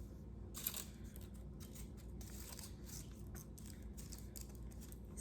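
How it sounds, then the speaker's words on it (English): Tape is ripped and pressed down over strips of foil for a Girl Scout robotics badge project, giving a few quick, crisp tearing bursts close up against a quiet, steady room background. "we're going to start with taping the first short one down"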